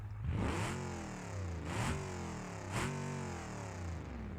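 A 713-horsepower car's engine revs in the BeamNG.drive video game, rising and falling in three strong surges with a throaty, harmonic-rich roar that climbs and drops back, loud and continuous.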